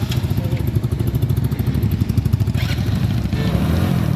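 A new Royal Enfield Bullet motorcycle's engine thumps steadily and close by as it pulls away from a fuel pump, its low pulsing rumble continuous with a slight clatter and no talk.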